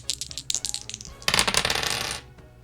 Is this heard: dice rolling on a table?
yes